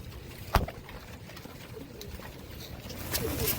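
Soft, low coos of dyed pigeons murmur in the background amid faint outdoor noise, with a single sharp tap near the start.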